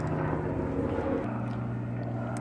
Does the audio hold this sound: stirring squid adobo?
no